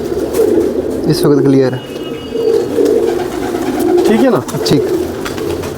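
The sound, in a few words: Ferozpuri pigeons cooing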